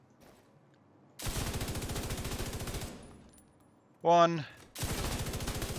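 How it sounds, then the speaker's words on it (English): An MG5 light machine gun in The Division 2 fires two bursts of rapid automatic shots, each a couple of seconds long, with a short pause between them. A voice briefly speaks in the gap. "First, we'll do it with the MG5."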